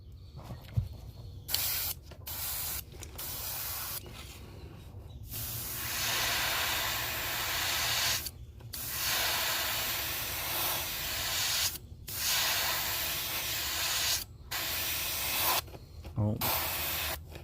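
Bursts of fine airy hiss from an airbrush spraying paint, starting and stopping repeatedly with short pauses in between, close and fairly steady.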